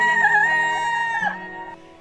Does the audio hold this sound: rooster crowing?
yes